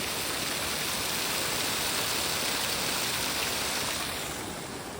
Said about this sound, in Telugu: ఇదిగోండి వాటర్ ఫాల్ కాడికి వచ్చాం